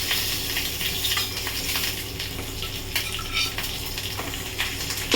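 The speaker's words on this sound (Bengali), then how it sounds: "আমার মোটামুটি ডিমটা আমি হালকাই ভাজবো" Eggs fry lightly in a pan with a dense, steady sizzle, close by and fairly loud, broken by scattered clinks and scrapes from a utensil stirring against the pan.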